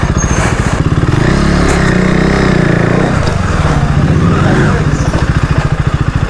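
A motorcycle on a ride from Jorhat to Majuli runs close by, its engine chugging steadily and rising and falling in revs throughout, loud and without talk.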